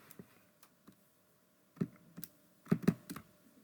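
Keys pressed one at a time while a calculation is entered into a calculator, a sparse run of soft clicks that turns into a quick cluster near the end, close and quiet, with no speech.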